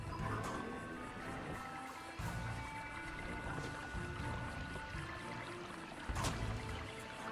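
Water pouring down in the video game Trine 2, a soft continuous rushing flow with a few brief louder splashes, faint and alone.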